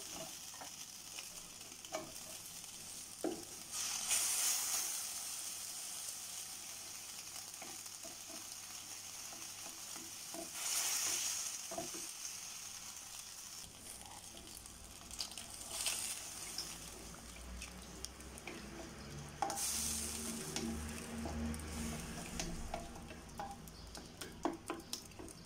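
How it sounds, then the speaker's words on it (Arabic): Flour and milk are stirred together into a savoury crêpe batter in a bowl, a soft, quiet scraping and swishing with a few louder sweeping passes spread across the stretch, close by and without any talking. "صافي حنا كنخلطو مزيان باش ما تكورش لينا"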